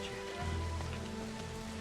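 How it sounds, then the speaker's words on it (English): Steady rain falls outdoors, with a continuous hiss of drops on surfaces at a constant, fairly close level and a low hum underneath. "It's raining out."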